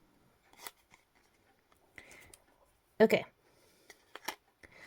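Scissors cut a copper piece with several short, crisp snips and clicks close by, separated by quiet pauses, while a voice briefly speaks.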